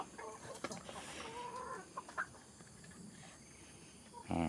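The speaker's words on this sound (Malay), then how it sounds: "Itu ayam kampung biasa." Ordinary free-range village chickens cluck and chatter nearby in short, irregular bursts, ending with a louder, sharper call.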